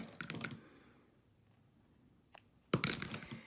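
Scissors trimming fabric tightly for a 5x7 alien head stuffie: a few close, crisp snipping bursts early on, then quiet, followed by a sharper cluster of cuts near the end.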